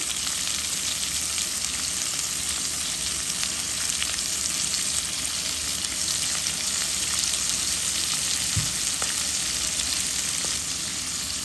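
Potatoes and green chilies frying in oil for a dried fish curry with eggplant, a continuous close crackling sizzle with occasional faint stirring clicks, no talk.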